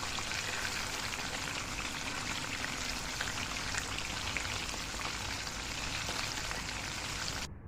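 Chicken broast pieces fry in hot oil with a continuous, even crackling sizzle that runs unbroken for several seconds before cutting off abruptly.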